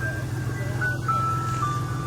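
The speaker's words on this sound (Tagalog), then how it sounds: "he can get his ice cream here at the ice cream truck" A parked ice cream truck on an American street plays its chiming jingle, a steady thin tune running throughout over a low engine hum, fairly loud and close.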